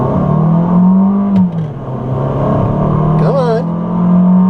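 A 2014 Fiat 500L with a six-speed dual-clutch transmission, shifted in manual mode, accelerates hard from a stop, its steady engine drone rising and dipping at a gear change, with a voice talking over it throughout.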